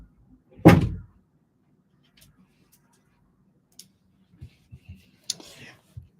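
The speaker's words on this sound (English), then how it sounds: "I'm just gonna close the door." An indoor door pushed shut, one sharp knock and thud near the start, followed by quiet room tone and a few faint clicks and light bumps, with hushed voices in the background.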